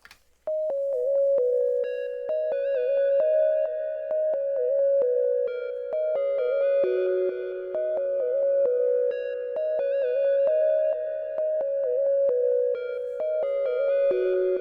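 Two bright synthesizer lead lines in a diaryplugg beat play a repeating melody together, one layered over the other, clean and steady with no other sounds.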